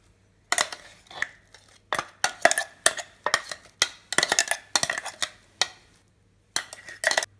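Ground beetroot batter for vadai is scraped from a mixer jar into a bowl, giving a run of sharp metallic clinks and knocks at irregular intervals, close and clear.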